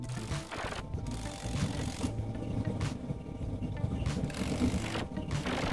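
An impact wrench tightens the front and rear CVT pulley nuts on an automatic scooter in a workshop, giving several short, close rattling bursts spaced over a few seconds with no talk.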